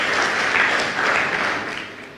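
Congregation applauding at a church sermon, steady dense clapping that fills the whole stretch, fairly loud and close, with no talk over it.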